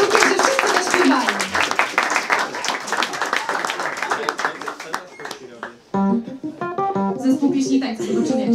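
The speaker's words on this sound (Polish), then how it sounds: "Dla mnie i dla nas wszystkich bardzo wielkie brawa" A crowd claps in a dense, sustained wave of applause, with voices and music-like tones rising near the end.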